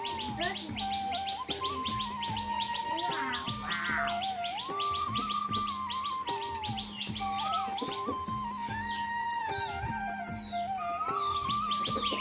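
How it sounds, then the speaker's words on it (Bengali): An Asian koel calls over and over near a village home, its rising whistled notes sounding above a steady chorus of other birds and insect chirping. "তোমরা একটু আগে শুনলে কোকিলটা ডাকছিল"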